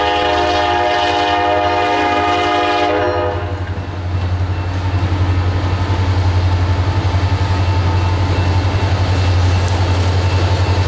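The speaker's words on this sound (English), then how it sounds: "This is L70 departing." Freight train L70 pulls away, a heavy locomotive rumble and steady engine drone filling the scene, with a sustained horn chord for the first few seconds before it cuts off and the rolling rumble continues loud and close.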